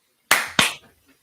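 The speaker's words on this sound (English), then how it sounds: "Good old clap syncs." Two sharp hand claps about a quarter second apart, loud and close, with no talk around them, marking audio sync after a countdown for a podcast recording.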